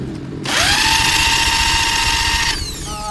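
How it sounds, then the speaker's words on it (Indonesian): A power drill whirs up abruptly, holds a loud steady high whine for about two seconds, then winds down, recorded close, while testing a Honda Vario 160 scooter's ECU. "jadi kita tes pakai bor"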